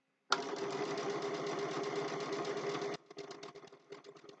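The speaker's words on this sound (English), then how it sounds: "And I'm quilting with just plain old sewing thread" A sewing machine stitches steadily while quilting a snowman mug rug with plain sewing thread, a close, continuous mechanical whir for a few seconds that stops abruptly, followed by soft irregular taps and rustling.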